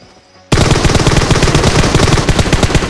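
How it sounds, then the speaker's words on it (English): Rapid automatic gunfire erupts suddenly in PUBG Mobile and keeps up as a loud, dense burst of continuous shots, heard alone with no talk. "They're shooting at you?"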